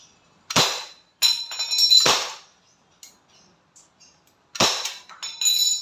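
An Umarex Glock 17 Gen 5 airgun pistol rated at 654 fps fires BBs up close, giving four sharp, irregularly spaced cracks, each followed by brief metallic clattering.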